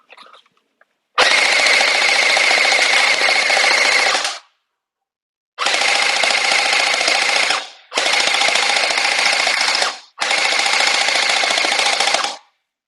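A custom UNLOCX gel ball blaster fires in four loud, steady full-auto bursts, the first about three seconds long and the rest about two, with silence between them.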